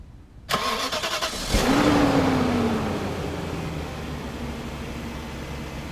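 A 2001 BMW E38 740i M Sport V8 with 251k miles cranks briefly and catches, surging to a loud rev that settles into a steady rumbling idle, close and alone.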